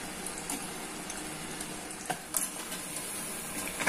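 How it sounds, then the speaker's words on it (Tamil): Needle fish frying in oil in a pan, a continuous bright sizzle and crackle with a few sharper pops and spits near the end, close and steady with no talk. "இது அடுத்த சிம்மில் வச்சு பொறுமையாக வறுத்து எடுக்கணும்"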